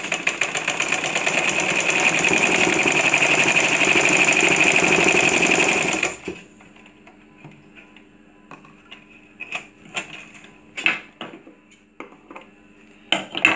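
A sewing machine stitching a kameez runs in a fast, even, rattling whir for about six seconds, then stops, leaving only scattered soft clicks and fabric handling nearby.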